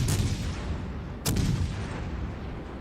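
Battleships firing high-explosive shells in World of Warships Legends, two heavy booming salvos about a second apart, each followed by a rumbling decay, loud and close with no voices.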